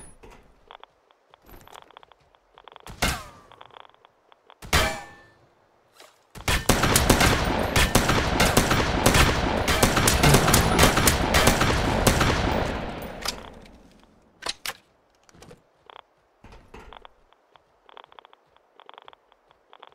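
Sustained automatic turret fire rattles loudly for several seconds in the Dysterra survival shooter, with a few isolated shots before and scattered footsteps and clicks after.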